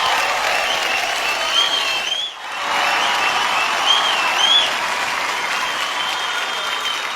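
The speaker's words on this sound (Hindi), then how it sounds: "Everyone, give it up for Alia Bhatt." Sustained applause and cheering fill an award show hall as the crowd welcomes a star performer, steady and dense throughout with a brief dip in the middle before resuming at full strength.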